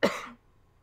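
A single sharp cough from someone recovering from a cold, close and fairly loud, with a chesty burst that fades out within about a third of a second.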